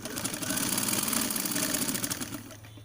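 A sewing machine runs a line of stitching along a strip on a blouse sleeve, a fast, steady mechanical whir close by that slows and stops near the end.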